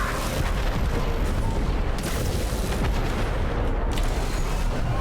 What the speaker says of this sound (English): because we're using the Zetki reactor, we're going to spam 7 times, which means a lot of missiles